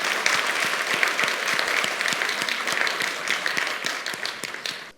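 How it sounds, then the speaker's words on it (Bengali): Loud, dense applause from an audience at a parliamentary-style debate competition on good governance in the financial sector, sustained clapping that fills the room before fading away at the end. "তাকে জোরে তালি দিতে চাই"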